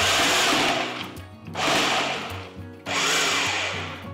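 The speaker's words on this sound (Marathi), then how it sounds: "आता सुकामेवा फूड प्रोसेसरमध्ये काढून घेतला की याची पेस्ट आधी नाही करायची, आधी फक्त पल्स करून याचे तुकडे करून घेऊया।" A food processor pulses dry fruits and coconut into pieces in three loud motor bursts, each whirring up and briefly dropping away before the next starts.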